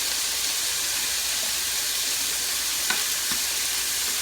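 Chicken pieces browning in a hot pan for keto cashew chicken, a steady loud sizzle and hiss filling the whole stretch with a couple of brief clinks near the end.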